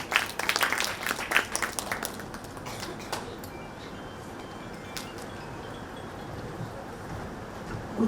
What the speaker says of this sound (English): A huge round of applause for Srimati Amiben Modi.